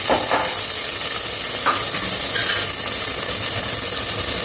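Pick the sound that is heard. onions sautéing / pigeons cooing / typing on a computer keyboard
onions sautéing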